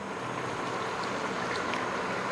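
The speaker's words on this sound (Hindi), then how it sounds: "अब मैं डाल दूँगी पानी।" Water is poured into a cooking pot over fried potatoes and rice, making a steady, close splashing rush that carries on without a break and with no talking.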